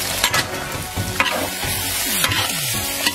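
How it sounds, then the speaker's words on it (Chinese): Beef hooves are stir-fried in a wok over high heat in rapeseed oil with pickled ginger, chilies and bean paste. Loud sizzling runs throughout, broken by repeated scraping and clanking strokes of a spatula against the wok. "下入牛蹄爆炒"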